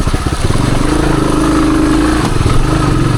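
A 1978 Suzuki DR370 motorcycle engine braking down a wooded trail, its single-cylinder thumping close and loud with a steady pulsing beat, no voices.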